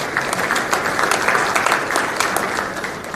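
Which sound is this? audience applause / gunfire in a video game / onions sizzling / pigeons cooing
audience applause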